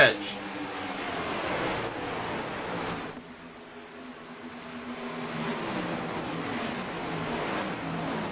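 SMR Gen 4 stock cars running four wide down the backstretch, a steady engine drone that dips briefly midway and swells again, heard under a commentator's voice.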